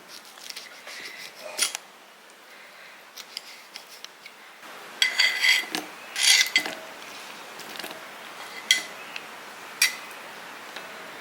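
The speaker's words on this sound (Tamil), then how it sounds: "இந்தளவுக்கு வந்து பீசஸாக நம்ம கட் பண்ணிக்கணும்" Repeated crisp snipping and slicing sounds of cutting citron fruit into pieces for pickle, irregular strokes with a faint background hiss and no talking.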